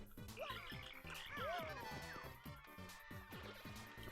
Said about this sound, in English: Forgot about the cricket noise again.